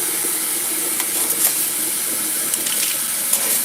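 Tap water runs steadily while an old coffee pot is rinsed: a constant close hiss broken by a few small splashes and knocks, with no voices.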